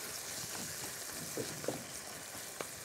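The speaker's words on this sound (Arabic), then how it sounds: "هنشوح الاول اللحمه" Meat searing in a pan as the first step of a home-cooked dish, giving a soft, steady sizzle with a few faint clinks and scrapes, heard at low volume.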